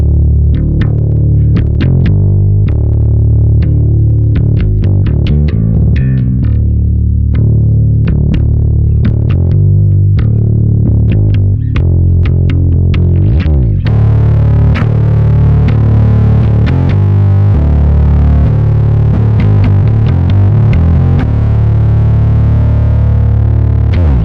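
Electric guitar played through a pi-Stomp v3 effects pedal in blend mode, heavily distorted with chorus-like shimmer; strummed chords and single notes ring out loud and continuous, with a fuller, brighter tone in the second half and no talking.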